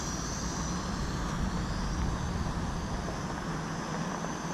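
A Tovsto Swift GPS quadcopter drone streaks past at full speed outdoors over a small field, its steady rushing buzz fairly loud and even for the whole stretch, with no talking.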